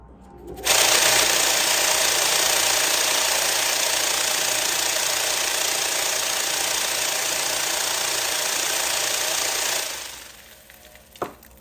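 A vibratory rock tumbler loaded with grit runs with its lid off, a loud, harsh, steady rattling roar that starts abruptly and stops near the end, followed by a single knock.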